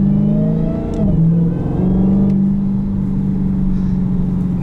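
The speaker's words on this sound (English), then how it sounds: "I think the best part about it is just the supercharger whine." A 2020 Dodge Challenger Hellcat holds a steady, high supercharger whine over a deep, rumbling exhaust drone. The engine revs briefly near the start, then settles. Loud and close, no voices.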